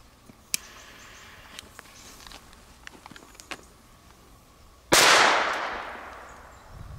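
A Dumbum Pirates firecracker goes off with a sudden loud bang that decays over a couple of seconds, preceded by scattered faint pops and crackles from other fireworks outdoors.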